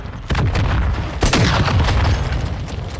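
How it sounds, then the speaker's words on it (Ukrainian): Heavy booming explosions in Call of Duty: Warzone DMZ go off, one around the start and another a second later, followed by rumbling and crackling debris, loud and close. "я через ці вибухи нічого не бачу"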